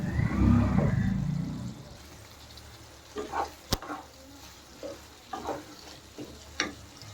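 Pasta tossed with ghee and chilli in a frying pan: a loud sizzle and scraping stir for the first two seconds, then quieter intermittent scrapes and clinks of the spatula against the pan.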